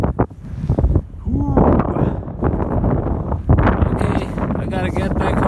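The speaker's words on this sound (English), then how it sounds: "The wind is blowing east" Strong, cold wind at a yacht harbor buffets the microphone in gusty roaring bursts, loud and close, while someone talks over it.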